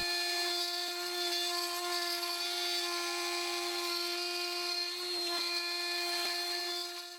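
A high-pitched, steady machine whine of a LUNYEE 3020 desktop CNC router spindle cutting full bit width, with slight dips in tone as the bit bites into the material.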